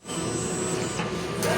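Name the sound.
printer head of a large printing machine running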